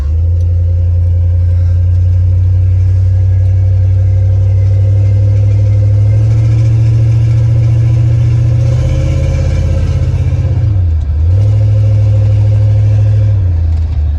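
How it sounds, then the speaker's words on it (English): A single cab dually truck drives with its engine droning loud and steady, pitch climbing slowly then dropping sharply as the transmission shifts, before rising again. "So it's shifting a little funny because I did not check the transmission fluid after, but it's shifting."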